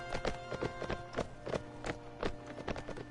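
Horses gallop in the Mount & Blade video game, their hoofbeats thudding in a quick, steady clip-clop rhythm over a faint hum of background tones.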